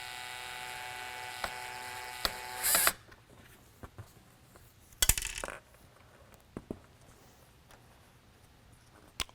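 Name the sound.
small lightbar screws dropping and bouncing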